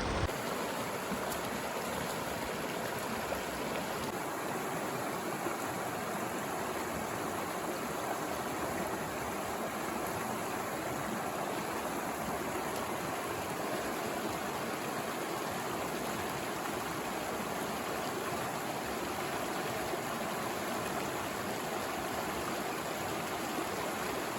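Cold river in late September on Maine's Appalachian Trail, flowing in a steady, soft rushing babble, fairly quiet and continuous without any talking.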